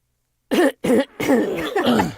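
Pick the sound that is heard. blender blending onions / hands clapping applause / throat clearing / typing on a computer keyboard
throat clearing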